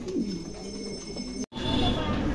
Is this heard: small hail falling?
no